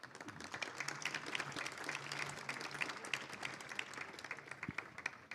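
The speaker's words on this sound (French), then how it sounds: "On peut l'applaudir, Bernard." Applause from a conference audience greeting an automotive-industry economist, a broad steady wash of clapping held at moderate level across the whole stretch, with no voices over it.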